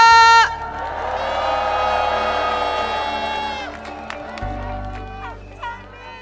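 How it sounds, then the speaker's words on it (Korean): A political rally crowd cheers and claps loudly, with whoops and shouts over sustained music-like tones at first, then the noise fades and settles as a low hum rises near the end. "여러분, 뜨거운 박수 함성 부탁드립니다"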